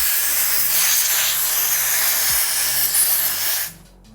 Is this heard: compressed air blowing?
yes